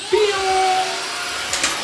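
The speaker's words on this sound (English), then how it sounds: "So I didn't show my vacuum cleaner." A small rechargeable vacuum cleaner in a student's dorm room runs with a steady close-up whine and rising motor pitch, holding a continuous drone throughout without interruption.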